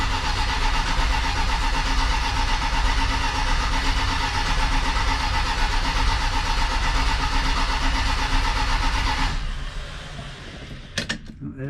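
A 1979 Dodge Lil Red Express pickup, fresh out of winter storage, cranks and runs in a loud, continuous, even engine roar close by, before dropping to a lower idle with a few clicks near the end.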